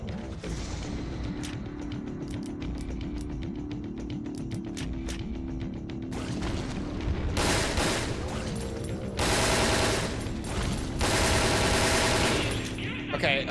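Assault rifle fire in a Resident Evil video game rattles out in dense automatic bursts with mechanical clicks, loud and continuous over a busy game soundtrack.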